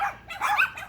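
A neighbour's dog barks and yips in a quick burst of a few sharp, slightly whiny calls, moderately close, with no talking.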